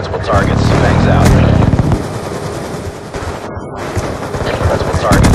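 A helicopter in a military video game thumps steadily under bursts of machine-gun and gunfire, all loud and dense, with a voice talking over the action.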